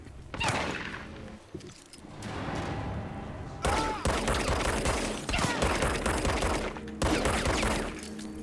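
Loud rapid gunfire bursts in the video game Control as shots are fired at a target, repeated close volleys and thuds over a sustained game soundscape.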